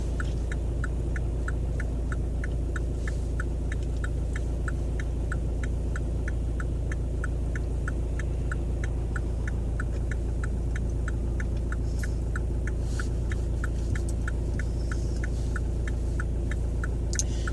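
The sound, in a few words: car driving on a road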